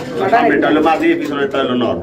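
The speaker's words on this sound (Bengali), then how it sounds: "যেটা ডানে আছে এই যে জুটিটা বন্ধুরা দেখেন এটা হচ্ছে নর কবুতর" Soft, low pigeon coos from a male and female pair repeat through the clip, mixed in with people talking nearby at a pigeon sale.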